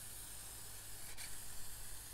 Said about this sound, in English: So I'll spray the MTN 94 one first.